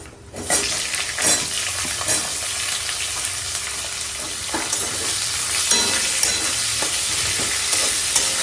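Plenty of onion sizzles steadily in hot oil with a dried red chilli and panch phoron, fried until reddish for a home-style potato dish. Stirring scrapes and light clinks cut through the continuous close frying hiss.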